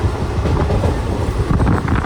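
The Garib Rath Express runs along the rails with a loud, continuous close rumble and low rattling from the wagons, steady throughout without speech.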